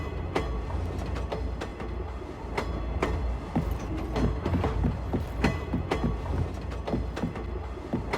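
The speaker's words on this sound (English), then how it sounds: "I just contacted the Knight's Order with the train's intercom." A train rolls along rails in the video game Oceanhorn 2, with a steady low rumble and regular sharp clicks from the wheels over rail joints, close and continuous.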